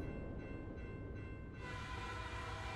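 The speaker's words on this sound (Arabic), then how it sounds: "يسير القطار على السكة بسرعة 40 كيلومتراً في الساعة" A train runs along the track at 40 km/h, a steady low rumble with rolling mechanical tones that brighten and swell slightly partway through, close and continuous with no voices.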